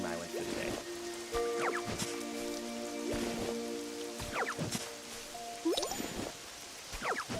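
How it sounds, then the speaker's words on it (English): Rain in the Pokopia video game patters and hisses steadily as a continuous wash, with game music tones and chimes playing over it and no one talking. "This rain is really something."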